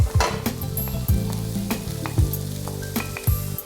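Sautéed vegetables with green beans and garlic are stirred in a hot pan, with loud close sizzling broken by repeated clanks and scrapes of a utensil against the pan.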